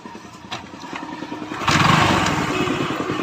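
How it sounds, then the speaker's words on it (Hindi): A motorcycle engine runs steadily nearby, its putter rising in loudness partway through and holding a smooth idle. "अब देखें इंजन की आप साउंड देखें, बिल्कुल मक्खन मलाई जैसी है"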